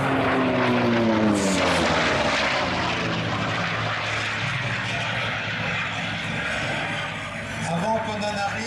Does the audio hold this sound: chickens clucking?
no